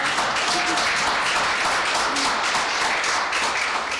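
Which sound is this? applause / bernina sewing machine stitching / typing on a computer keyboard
applause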